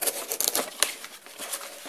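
A knife blade works against a hard plastic Hills Brothers instant coffee container, giving sharp crackling scrapes and ticking snaps in irregular bursts, close and moderately loud.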